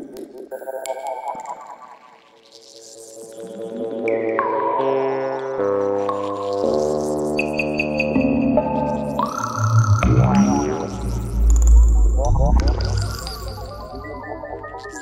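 A layered ambient soundscape of sustained synth tones and sweeping textures, shifting gradually with a deep rumbling swell near the end.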